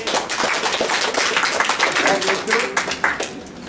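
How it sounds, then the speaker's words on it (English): Audience at a psychological health presentation breaking into dense, continuous clapping close by, with voices mixed in. "Give them an applause."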